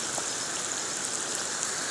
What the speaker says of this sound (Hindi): ओले पड़ रहे हैं